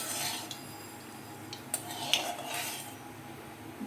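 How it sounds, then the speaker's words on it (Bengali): Black cumin seeds stirred in hot oil in a pan, a spoon scraping and clinking against the metal in a steady, close rhythm over a faint sizzle, no voices. "ভালো করে কালো জিরেটা আমি তেলের মধ্যে নাড়িয়ে দিচ্ছি"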